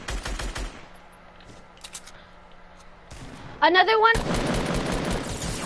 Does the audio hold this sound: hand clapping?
no